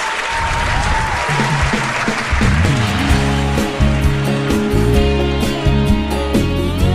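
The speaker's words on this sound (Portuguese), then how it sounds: "eu quero uma salva de palmas para o cantor" An audience applauds a singer on a television program, clapping that opens the moment and then runs beneath rising music, the handclaps persisting under the band as it comes in.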